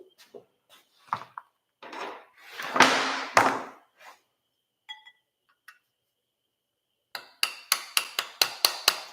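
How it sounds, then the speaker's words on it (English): A hammer tapping a retainer into a 48RE transmission from a Cummins Ram in a shop, first some scattered knocks and handling noises, then a quick run of about eight crisp, evenly spaced taps close by. "We're gonna do that with a hammer"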